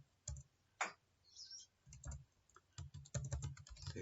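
A computer keyboard is typed on at close range while entering data into a Microsoft Access pharmacy database, with scattered keystrokes that turn into a quicker run of clicks near the end and no voices.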